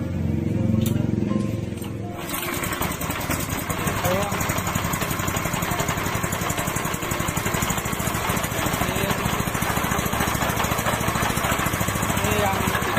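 A pellet-making machine starts up with a brief clatter and then settles into a steady, loud mechanical drone that runs continuously and close by.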